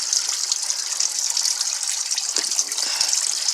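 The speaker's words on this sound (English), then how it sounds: "I'm just going to pry down and let some of that coolant drain out." Engine coolant drains from a pried-open cap on a 2009 Toyota Camry 2.4L, a continuous close hissing gush of liquid that holds steady throughout, with no voices.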